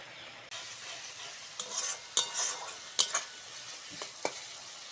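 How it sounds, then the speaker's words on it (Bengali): Spice paste for crab curry stir-fried in a pan, a soft continuous sizzle with repeated scraping and stirring strokes of a spatula, close and moderately quiet. "মশলাটা ভালো করে কষে নেবো এই মশলাটা যত ভালো করে কষবে তত কাঁকড়ার তরকারিটা খেতে ভালো লাগবে"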